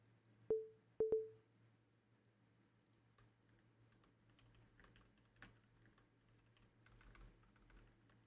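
Faint, scattered clicks of typing on a computer keyboard follow two sharp electronic beeps, all over a low steady hum.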